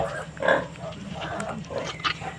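Small high grunts and squeals from a newborn piglet, several short bursts close by over a muffled farmyard background.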